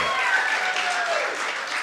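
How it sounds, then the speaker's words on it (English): Brief, steady applause from an audience at a poetry read-out for the poet Cheyenne, fairly close and even, with faint murmuring underneath. "Keep it clapping and keep it going for Cheyenne"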